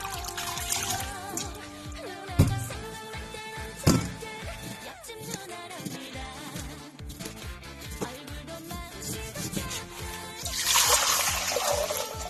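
Thawed frozen cabbage is washed by hand in water, with intermittent splashing, sloshing and trickling, a couple of sharper splashes standing out over a busy background.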